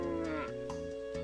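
A cow moos in Breath of Fire III, a single drawn-out low bellow with harmonic layers, heard alone over steady game background music.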